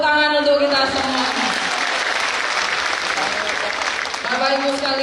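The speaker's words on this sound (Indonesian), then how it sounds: "Tepuk tangan untuk kita semua." Applause from a crowd of thousands at a business success event, loud and steady clapping filling the whole stretch, with a voice speaking over it at the start and the end.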